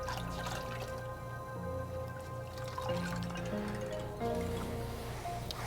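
Vodka being poured for a Halloween cocktail trickles and drips in a soft, close, steady liquid stream with a low background hum and no talking.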